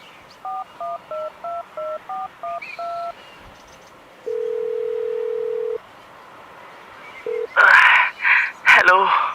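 Rapid keypad beeps dial a number, then a long steady ringing tone and a shorter second ring follow before a voice answers.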